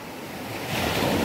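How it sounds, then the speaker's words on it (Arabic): Sea waves washing onto a shore, a broad steady wash of surf that swells louder toward the end, with some wind noise across the microphone and no voices. "أنا أجمل مكان عندي بالدنيا طبعا هو البحر"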